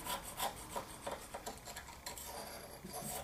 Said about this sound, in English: what I have here is an X-Acto knife with a scraper tip, and I'm going to go in and I'm going to smooth out the little swirl patterns